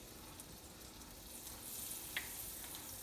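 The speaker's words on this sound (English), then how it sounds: "it looks like your pan is nice and hot. It's sizzling." Butter, a couple of tablespoons spread around a hot pan, sizzles in a steady, soft crackling hiss for the whole stretch, with a brief sharper pop near the end and no talking.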